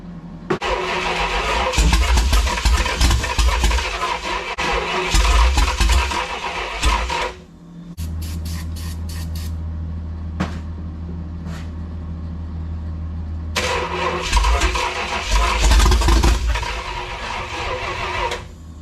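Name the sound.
Dodge 400 engine running rough on about half its cylinders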